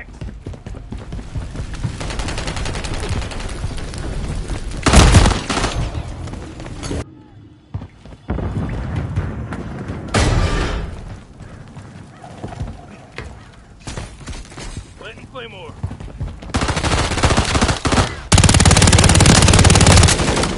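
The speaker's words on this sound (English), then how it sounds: "Taking effective fire." Bursts of machine gun fire in a multiplayer shooter video game's team deathmatch, loud and broken into several separate volleys with quieter gaps between them, mixed with game sounds.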